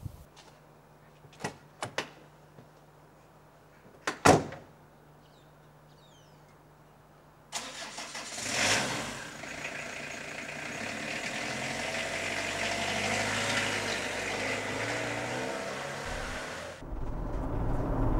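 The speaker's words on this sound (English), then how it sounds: "taking this motorhome for a test drive around the Yorkshire moors" A motorhome on the Yorkshire moors starts up after a few door thuds and knocks, its engine catching and then idling and running steadily at moderate volume, close by, with no speech.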